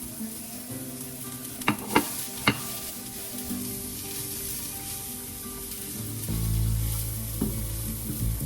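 Chopped vegetables fry for kottu roti in a hot pan, sizzling steadily up close, with three sharp utensil knocks early on and a louder rushing sizzle near the end.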